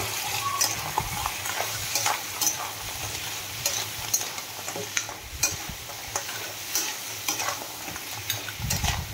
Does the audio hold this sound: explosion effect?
no